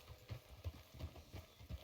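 Horse hooves clip-clop in a Red Dead Redemption video game, a steady walking rhythm of soft, muffled hoof thuds at a moderate distance, quiet and alone with no talk.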